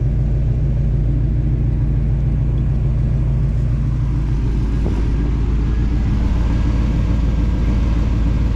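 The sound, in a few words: 1979 Pontiac Trans Am engine running while driving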